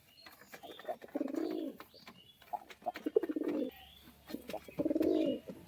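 A pair of Kathlal Deshi Giribaz pigeons coo in three low, rolling bursts, close by, with a few soft wing or foot noises between calls.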